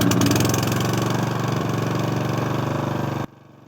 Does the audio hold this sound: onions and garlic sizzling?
no